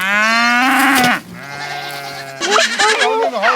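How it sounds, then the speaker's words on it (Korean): Sheep and goats on a grazing ground bleat loudly and continuously, overlapping long wavering calls from several animals close by. "배를 채우고 싶은 마음에 양과 염소들이 다투어 풀을 찾아갑니다"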